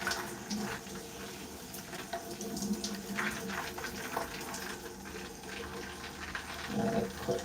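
Water from a tap runs over natural curly hair as it is detangled, a steady, fairly quiet splashing stream with small shifts as hands work through the hair, no talking.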